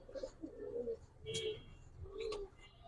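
Several pigeons coo in repeated low throaty bursts, close by in a pigeon-selling setting, with faint chirps above and no talk.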